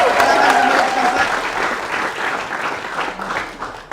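Audience applause at a college pantun event in Palembang, a broad crowd clapping that swells then tapers over a few seconds, with a voice speaking over the start.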